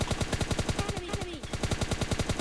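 Rapid gunshots from a sniper rifle in a shooter video game, a fast steady string of sharp loud cracks, with a short voice call heard briefly in the middle.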